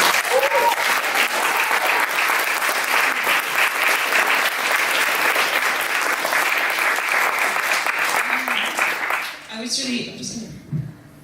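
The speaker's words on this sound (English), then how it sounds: "give them a round of applause" An audience at a magazine issue launch and reading event applauds in a dense, steady burst of clapping for about nine seconds, then fades as a voice begins speaking.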